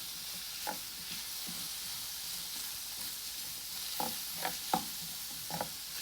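Chili flakes and black pepper fry in a tomato pepper sauce for shakshouka, a steady faint sizzle with a few soft stirring scrapes near the end, with no voices.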